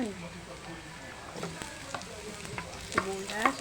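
Onion frying in a pan while cooking kinamatisang prito: a low steady sizzle with spatula clinks and scrapes that grow more frequent toward the end, with faint voice in the background.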